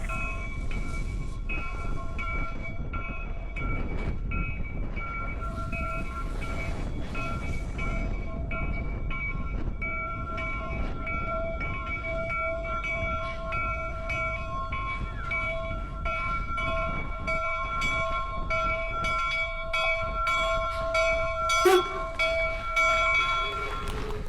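The Jupiter steam locomotive rumbles steadily nearby as it pulls into Promontory Station at a Golden Spike re-enactment, a constant low roar, ringing tones and bell-like clanks, while a voice speaks faintly under the noise.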